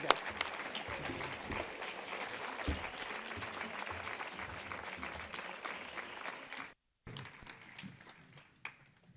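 An audience in a hall welcomes two flamenco performers with strong, dense applause for several seconds, then an abrupt break and a few scattered claps and murmurs as it dies away.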